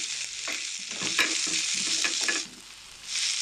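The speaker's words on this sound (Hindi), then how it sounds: "green and red capsicum 1 cup है हमारे पास, ये ऐड कर देंगे और इसको अच्छी तरह से मिक्स कर लें" Onion with green and red capsicum stir-frying in a pan for chicken fajita pizza topping, a bright crackling sizzle broken by spatula stirs and scrapes, briefly dipping before the sizzle returns; no talking.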